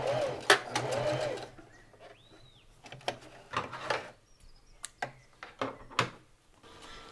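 A sewing machine stitching in short, separate bursts that are loud and close, with quieter gaps and a faint hum between them.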